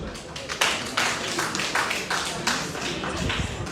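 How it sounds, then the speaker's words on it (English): A crowd claps in a steady wash of applause, with scattered louder hand claps and a faint voice underneath. "Lord, clap for her."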